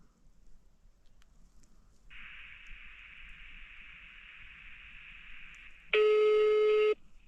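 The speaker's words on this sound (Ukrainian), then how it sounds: "Гудок іде." After a quiet start, a steady phone ringing tone hums for several seconds on a call to a GPS tracker, then a louder, sharper beep sounds briefly before it stops.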